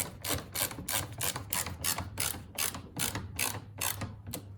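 A hand tool drives screws into a plastic kayak accessory, making a close, regular ratcheting click about ten times in a steady rhythm, with no talking.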